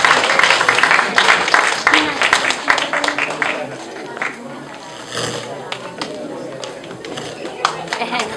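An audience at a retirement party breaks into applause, a dense burst of clapping that thins out into scattered claps, with people talking over it.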